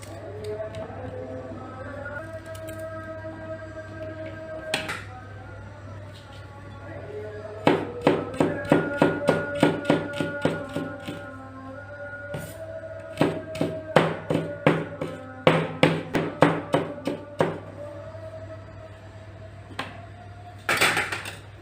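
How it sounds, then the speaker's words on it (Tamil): Knife slicing fresh ginger into thin slices on a cutting board, close and crisp: bursts of rapid, evenly spaced chops with short pauses between runs, over a steady low hum. "இப்போ இதையும் வந்து நம்ம தின் லேயரா வந்து கட் பண்ணி எடுக்கணும்"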